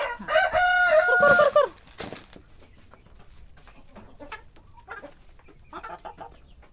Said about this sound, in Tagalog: Ito yung mga extra rooster namin guys.